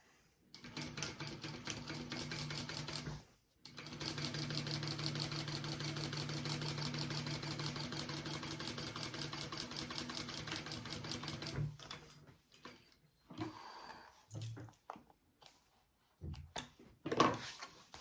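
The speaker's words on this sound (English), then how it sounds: "we are sewing with a 3/8 inch seam allowance along those sides" A sewing machine stitches 3/8 inch seams along the sides of a sling, running steadily and close for long stretches, then stopping, with short bursts and pauses toward the end.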